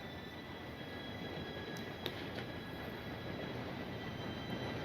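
A train approaches in Red Dead Redemption 2: a steady, distant rolling rumble with faint high wheel squeals, heard alone at low level.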